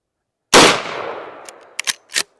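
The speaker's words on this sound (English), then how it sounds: "Here you go, the Federal 125 grain jacketed hollow point from the full-size" One loud, close gunshot from a full-size 24-inch 1892 lever-action rifle in .357 Magnum firing Federal 125 grain jacketed hollow points, a sharp crack with a decaying echo followed by a few quick mechanical clicks.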